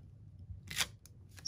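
Scissors cutting out an embossed paper die-cut piece: one short, crisp snip stands out, followed by a couple of softer, quicker cuts, close and fairly quiet.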